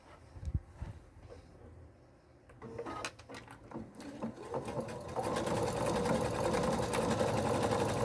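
A sewing machine stitches a finishing seam on a fabric travel bag, starting with scattered clicks and short bursts, then settling into a steady, fast, close mechanical whirr and rattle for the last few seconds.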